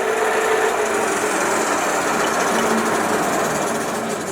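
A vintage Stanko 1A616 lathe spins in a slow gear, giving a steady, close mechanical whir and hum with a faint rhythmic rattle that holds even throughout.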